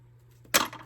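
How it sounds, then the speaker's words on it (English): Scissors snip through paper once for a junk journal craft, a single crisp close cut standing out against a quiet room with a faint steady hum. "I think I'm gonna cut this here."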